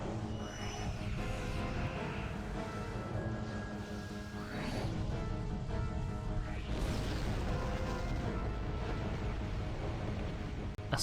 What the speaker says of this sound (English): A salvo of plasma fire peppers our rear shielding